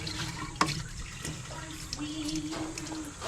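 Water sloshes and splashes from an overfilled container on a farm, with irregular liquid gurgles and a few sharp clanks over steady background noise.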